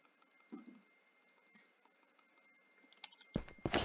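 Computer keyboard typing while playing Minecraft Bedrock, faint irregular key taps through the clip, ending in a couple of louder, harsher clacks close to the microphone.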